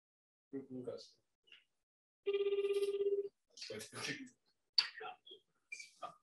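A telephone ringing through speakerphone during a live radio broadcast, a single sustained electronic ring of about one second standing out between stretches of nearby talking.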